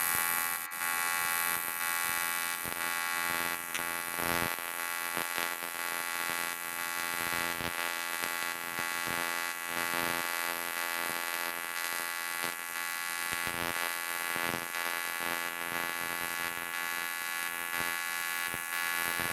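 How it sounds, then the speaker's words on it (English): An AC TIG arc from a Firstess CT2050 welder runs on 3/16-inch aluminum, giving a steady, loud buzzing hum with a harsh, dense tone that holds for about nineteen seconds with only brief flickers. "So I'm going to be welding some 3/16 aluminum."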